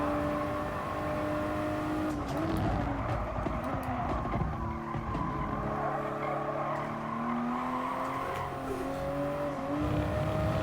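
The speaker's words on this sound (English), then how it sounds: "Because I can tell you now, this car... it drifts." A race car drifting on a track in the video game Gran Turismo Sport, its engine droning with shifting pitch while tyres squeal in long, wavering slides throughout.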